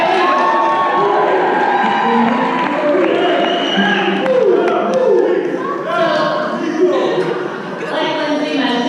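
Wedding guests cheering and whooping together, a loud, continuous crowd roar with shouts and laughter rising and falling throughout, close and full.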